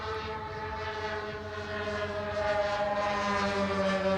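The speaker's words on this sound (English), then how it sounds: "4 engines screaming as he comes back across the line." A large scale-model Boeing 747 radio-control airplane with four engines screams past overhead, a sustained, loud, high-pitched whine of several motors that swells slightly as it nears.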